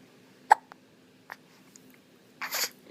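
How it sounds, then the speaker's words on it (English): Hiccups from a baby, a few sharp isolated hics spaced over a few seconds, close and fairly quiet, followed by a brief breathy rustle. "about the hiccups?"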